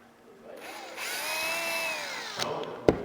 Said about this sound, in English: you take a 4mm drill, you mark it from outside, and